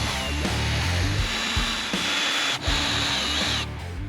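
A power driver whirs loudly, backing screws out of a junction box cover inside an RV, in several bursts separated by brief breaks.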